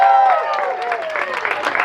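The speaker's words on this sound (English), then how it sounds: "Let's give them a round of applause for all of their hard work in getting this store open." Crowd applause at the opening of the first Sheetz convenience store in Michigan, steady clapping and some cheering rising under a voice that trails off at the start.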